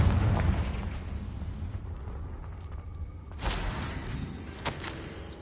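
A Confringo spell explodes in Hogwarts Legacy, a fiery blast and rumble fading out, followed by two sharp, crackling bursts as further impacts land, all without talk.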